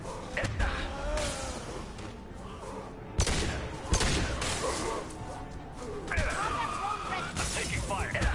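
Gunfire in the sci-fi shooter Mass Effect 2, sharp shots and impacts cracking through heavy combat noise, with loud bursts around the middle and near the end over a constant din of battle.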